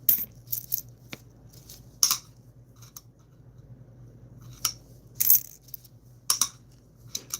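A nickel coin slips from a hand and drops, giving sharp metallic clinks and chinks, with several more small coin taps and scrapes scattered over a quiet background.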